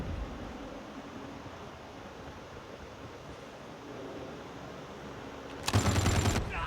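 A short, loud burst of rapid automatic gunfire from the Call of Duty Mobile video game cuts in near the end, after several seconds of low, wind-like rumble.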